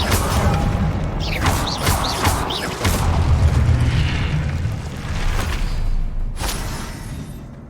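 Spell effects from the Hogwarts Legacy video game, including fire and blast spells, form a dense, loud stream of whooshes, booms and crackling bursts that runs almost without a break from start to end.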